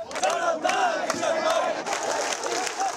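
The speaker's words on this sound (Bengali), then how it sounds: "মুহুর্মুহুর করতালিতে ইশরাকের পক্ষে সমর্থন জানান কর্মী সমর্থকরা" Supporters' crowd chanting and cheering at a street protest in front of a city hall building, a dense, loud wall of massed voices rising and falling steadily throughout, with no distinct clapping standing out.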